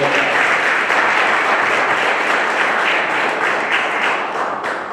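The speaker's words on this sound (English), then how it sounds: "Let's give her a big round of applause." An audience at a workforce development program closing ceremony breaks into applause, a dense, steady wash of many hands clapping for several seconds before tapering slightly at the end.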